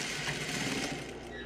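A sewing machine stitches a seam in flannel pajama fabric, running as a steady, close, continuous whirring drone with no pauses and no talking.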